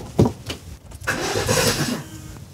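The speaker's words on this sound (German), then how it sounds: "Ich bin gespannt, ob man das im Video hört, mit wie viel Kraft der startet." A Volkswagen Golf engine cranks with a couple of sharp starter bursts, then fires and catches into a loud, rough rumble that settles toward idle, heard up close.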